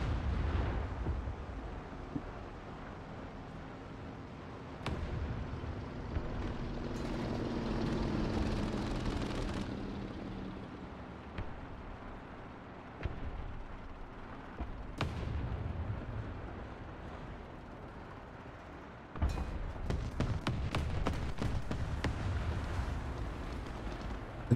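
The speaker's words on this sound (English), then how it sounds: "It's one of those stupid planes with the big guns." A close air support attack plane with big guns in a tank battle video game, heard as distant booming gunfire and explosions under a rumbling engine drone, with a sharp crackling burst of shots near the end.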